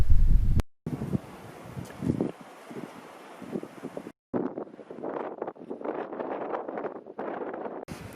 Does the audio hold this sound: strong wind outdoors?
yes